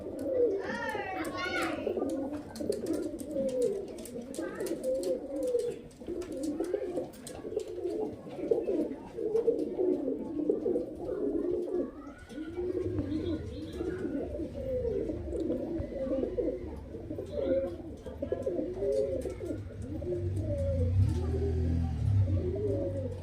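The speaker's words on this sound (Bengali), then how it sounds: "অনেকগুলো পায়রা আছে এবং এখানে পেটিতে পুরো পায়রা আছে" Many pigeons coo steadily in a loose, overlapping rhythm from a crowded loft or crate of Madrasi and Murshidabadi breeds, close and continuous, while someone talks over them.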